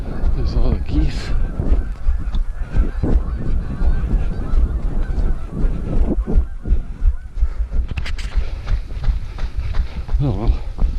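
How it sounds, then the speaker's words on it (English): Geese honk repeatedly at a park lake in Prairie Oaks Metro Park, with several loud calls close by and others farther off, over steady outdoor background noise along a running trail. "There's all the geese."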